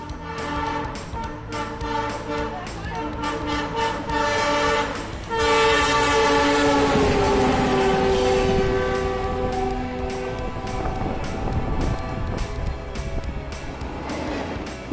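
A train running through a new railway tunnel, loud and close, with a long blaring horn midway over the rumbling clatter of the wagons.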